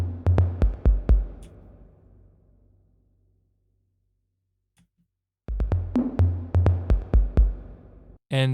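An 808-style drum pattern programmed in FL Studio, with deep booming kicks and sharp snare hits in a steady rhythm. The beat drops out into a near-silent gap, then returns with the same pattern, all played alone without any voices.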